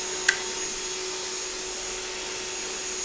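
A Black & Decker Dustbuster Flexi 12V handheld vacuum runs steadily while sucking up loose rice, a continuous whirring drone with one brief sharp rattle near the start.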